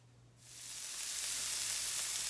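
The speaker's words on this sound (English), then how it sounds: "So as your veg is frying, you're gonna salt and pepper them." Carrots, onions and garlic hit hot oil in a pan and burst into a loud, steady hiss that builds within half a second and keeps sizzling close by, for a lentil filling.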